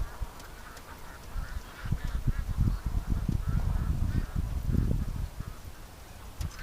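Ducks call from a lake, a run of quacks and honks scattered across the water at middle distance, busiest in the middle stretch and thinning toward the end.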